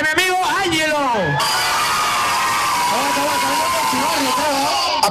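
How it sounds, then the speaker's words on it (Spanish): Lively crowd at a children's stage show cheers, whoops and shouts continuously, with children's voices rising above a dense roar while a host talks over the noise. "Un aplauso acá para mi amigo Ángelo."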